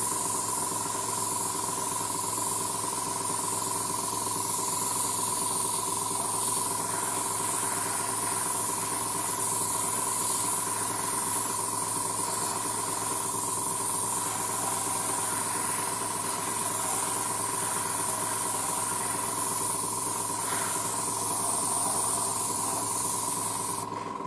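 An airbrush lays light coats of paint onto a 1:35 Takom Type-69-II tank model, giving a steady, close hiss that runs unbroken for the whole stretch with a faint constant hum underneath.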